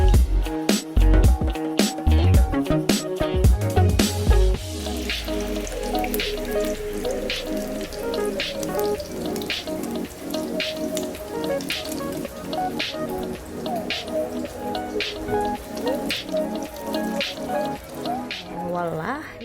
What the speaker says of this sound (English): Now it's time to fry.